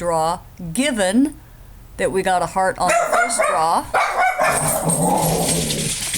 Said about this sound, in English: Sorry about the barking, that was my dog Leo.